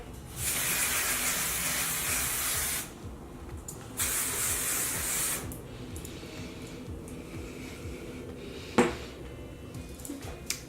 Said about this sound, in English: I'm going to give it one more coat of hairspray.